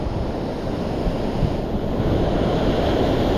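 Low-tide surf washes continuously onto a San Diego fishing beach as a dense, loud, unbroken roar mixed with wind buffeting the microphone.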